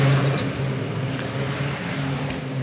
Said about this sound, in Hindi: गाड़ी वगैरह आ रही है।